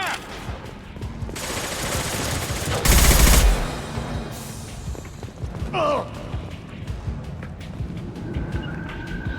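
Weapons firing in the sci-fi shooter Mass Effect 2: bursts of rapid automatic gunfire, close and loud, with one heavy blast early on, amid continuous combat noise.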